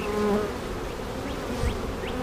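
Honey bees buzz steadily around an opened hive with brood comb, a continuous close insect hum with no voices.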